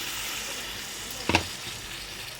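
Tamarind pulp poured into a pan of frying eggplant curry gives one brief burst of sizzling, close and moderately loud, over a steady background hiss of frying.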